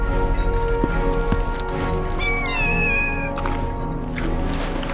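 A cat meows in Final Fantasy VII Rebirth, a drawn-out plaintive meow in the middle of the clip over steady game music and ambience, with a faint click or two beforehand.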